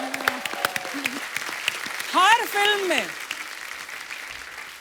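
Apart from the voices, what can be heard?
studio audience applauding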